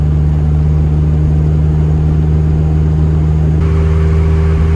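A turbocharged M42 engine in a BMW 320i E21 running on E85, a steady loud mid-pitched drone of the car pulling under boost, heard close from inside the cabin with no break.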